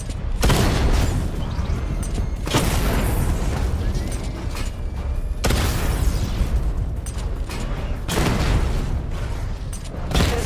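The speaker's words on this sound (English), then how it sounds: "Charge up missile barrage to level 2 and destroy 4 active targets to complete diagnostic" Missile barrage in Batman: Arkham Knight, with loud, deep booming blasts and rumbling explosions that hit in repeated waves, about one every two to three seconds, filling the whole stretch with no speech.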